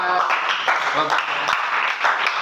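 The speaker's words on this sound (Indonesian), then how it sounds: "tepuk tangan buat Elezar dan Arya" A group claps for two children, Elezar and Arya, at an Indonesian class or gathering; brisk applause runs throughout with a voice talking over it.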